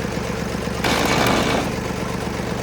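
A tractor's diesel engine, running on diesel mixed with petrol, idles steadily with a low rumble, rising briefly into a louder, rougher rev before settling back.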